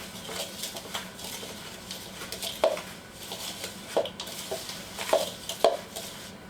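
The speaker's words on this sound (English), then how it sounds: "I'm just going to take my Swedish dough cook, whisk, whatever you want to call it, and mix this cookie dough up" A Swedish dough whisk works through chocolate chip cookie dough in a bowl, giving a steady soft scraping and stirring with a few sharp clinks against the bowl, close and fairly quiet.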